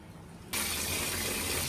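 Water gushes steadily onto one kilogram of vermicelli to submerge it for soaking, starting abruptly after a brief quiet moment and then running loud and continuous, close by.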